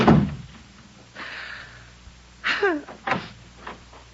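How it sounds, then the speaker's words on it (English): A radio show sound effect of a front door slamming shut: a sharp impact, then a brief scraping sound, then a couple of loud knocks, each standing alone against near silence. "Did I hear the front door slam?"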